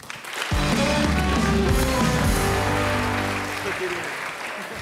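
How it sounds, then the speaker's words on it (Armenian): An audience breaks into sustained applause at a comedy show, dense clapping swelling up quickly and tapering slightly, with voices and tonal sound mixed underneath. "Եվ այսպես եկեք ծափահարություններով դիմավորենք Կիրակի Էյեմի աշխատակցին։"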